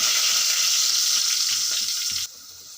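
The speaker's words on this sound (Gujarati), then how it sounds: "રાઈ ફૂટવા લાગી છે તો આપણે હિંગ એડ કરીશું." Mustard seeds crackle and pop in hot ghee as asafoetida goes in, a loud continuous sizzle close by with scattered sharp pops, dropping abruptly quieter near the end.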